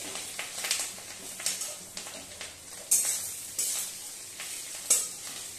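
Fish roe fries in a pan while being stirred and broken up, a continuous close sizzle punctuated by repeated scraping strokes of a spatula against the pan, with no talking.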